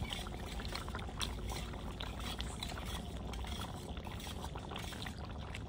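Cornflour mixed in water being poured into chicken gravy cooked in a village kitchen, a continuous liquid pouring and trickling sound, close and steady with no talk.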